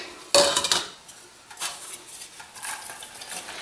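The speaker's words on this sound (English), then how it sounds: "we're going to saute the onions and the cabbage for just a few minutes" Onions and cabbage sautéing in a pan on a stovetop over medium heat, with a sharp utensil clatter against the pan at the start, then intermittent soft scraping and stirring over a faint background hiss.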